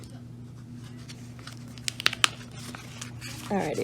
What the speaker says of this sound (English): If I can open the envelope.